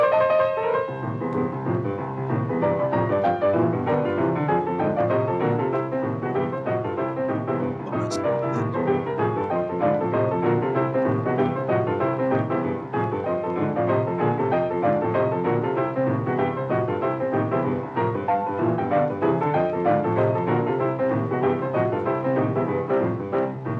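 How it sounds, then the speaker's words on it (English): Boogie-woogie piano recording, with a rolling left-hand bass under busy right-hand figures, steady and loud throughout with no talking. "boogie-woogie piano on Apple Music"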